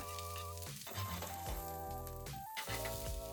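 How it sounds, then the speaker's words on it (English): Asparagus stir-frying in oil in a pan, a close, steady sizzle with faint stirring, heard without talk. "I add a bit of oil to the pan and add asparagus as well"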